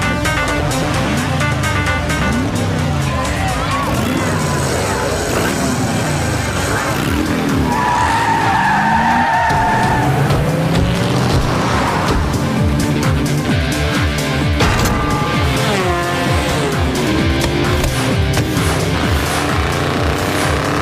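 Mach 5 race car in a video game skidding and tearing along, with loud continuous engine roar and squealing tire skids throughout, layered with game music and effects.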